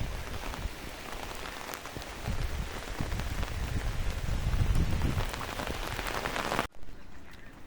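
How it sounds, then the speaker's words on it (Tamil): Heavy rain pours down as a dense, steady wash of drops hitting surfaces. It grows louder and fuller partway through, then cuts off abruptly near the end, leaving a quieter patter. "நல்ல மழை."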